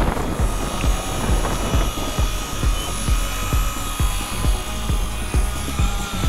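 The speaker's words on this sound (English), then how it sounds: "I flew my MCPX again, and most were amazed at how well it flies in the wind with no tail rotor." A small remote-control MCPX model helicopter with no tail rotor flies outdoors in wind, its rotor giving a steady, loud whine with rapid rhythmic thumping throughout.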